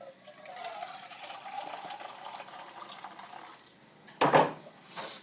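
Water pours from a tin into a pan of spicy tomato sauce, a soft running splash for several seconds, then a short sharp burst of liquid near the end.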